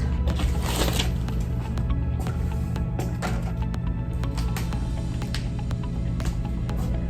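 A pen or marker scratches across a surface while a diagram of the wrist bones is drawn. Short scratchy strokes come in irregular bursts over a low steady hum, close by.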